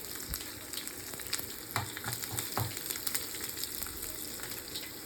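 Food fries gently in a pan over a low flame, a continuous hissing sizzle close by with light intermittent stirring scrapes and taps.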